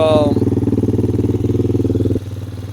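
A Lifan KP Mini 300 motorcycle with a four-valve ZS175FMN engine and custom exhaust idles close by, a loud, even, fast-pulsing putter that drops noticeably in level near the end.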